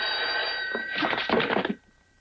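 A telephone bell rings in a single sustained burst in a tense crime-drama scene, loud and close, then cuts off abruptly as if the receiver is lifted, leaving quiet room tone.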